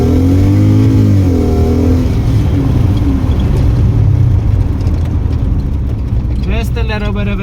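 Inside a Nissan 1400 bakkie swapped with a Lexus 3UZ V8, the engine pulls hard under acceleration, a loud rumbling roar rising in pitch with a brief shift near the start and a gear change toward the end.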